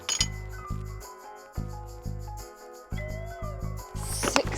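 Glass bottles recovered in a river litter clean-up clink against one another, a series of bright, ringing taps with lingering tones, close and fairly loud, ending in a busier jangle.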